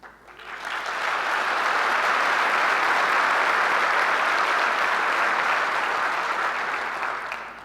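Sustained, loud applause from a large crowd at a county address, swelling in quickly and holding steady for several seconds before starting to fade.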